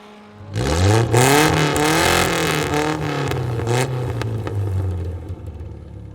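An FF1600 formula race car in iRacing fires up loudly after a brief quiet start, its engine revving and holding a strong droning note, with rising and falling pitch as it pulls away on the Circuito de Navarra lap.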